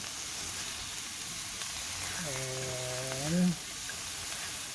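Spices such as dry mango powder and black pepper sizzle with vegetables in a hot pan, a continuous even hiss that runs throughout, while one drawn-out spoken word rises briefly over it.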